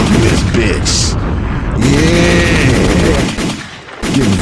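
Loud bursts of gunfire sound effects, rapid and overlapping like automatic weapons, play over excited talk throughout.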